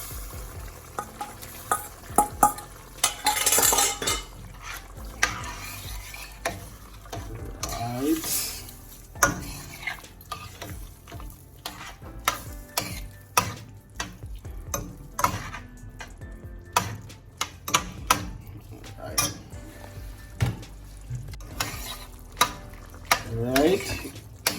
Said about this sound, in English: So now I'm going to add the shrimps in.